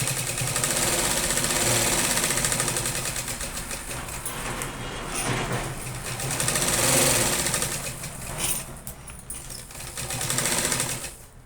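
A sewing machine runs steadily, stitching a lace bag, its motor whirring and needle chattering in a continuous mechanical hum with slight swells in speed and no talking.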